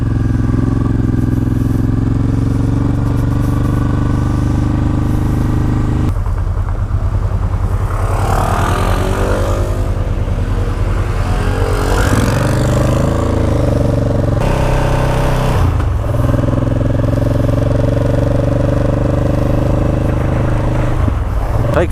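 A loaded touring motorcycle riding on a road, its engine droning loudly and steadily close up, with wind rush and shifts in pitch as it changes speed over about twenty seconds.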